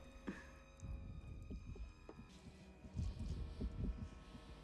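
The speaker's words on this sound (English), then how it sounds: "Even mixed with the heartbeat" Low, throbbing heartbeat pulses from a vampire film's blood-sucking scene, repeating at an even pace beneath a dark droning hum and tense orchestral score.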